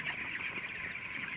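Chickens on a poultry farm keep up a steady, dense murmur of clucking and chatter throughout, with no talk over it.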